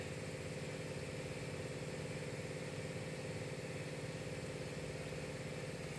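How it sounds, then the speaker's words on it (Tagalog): A steady, rumbling Toyota Land Cruiser V8 engine idles continuously, with an even low throb and mechanical vibration throughout and no voices. "So itong makina natin mga kaibigan ay V8 ito."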